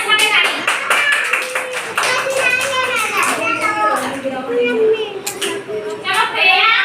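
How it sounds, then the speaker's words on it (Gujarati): Young children clap together for a girl finishing a bag race game, quick rhythmic claps mixed with an adult's voice and kids' chatter close by. "ચલો જીયા સાથે તાળી."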